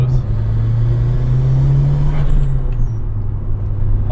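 A Mitsubishi Evo IV on its stock turbo, with the intake and blow-off valve audible, gives a loud, steady engine drone with a rising pitch, then eases off near the end with a faint hiss.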